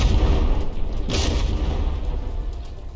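Shells striking a battleship in From the Depths, heard as a dense low rumble of booming impacts with one sharper crack about a third of the way through, sustained and fairly loud throughout.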